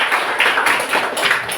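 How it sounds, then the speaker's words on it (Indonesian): Classmates applaud a student group after its presentation, with a steady, fairly loud patter of many hands clapping together in a classroom. "Tepuk tangan untuk kelompok"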